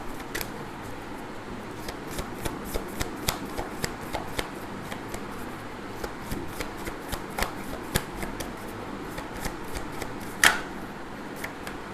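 A deck of tarot cards is shuffled by hand, making soft, continuous riffling and flicking with many small taps and one sharper snap near the end. No one speaks.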